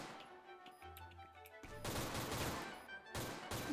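Gunfire in the online shooter Crossfire comes first as scattered single shots and then as long, dense automatic bursts with a brief gap between them, fairly loud and close, with no talking.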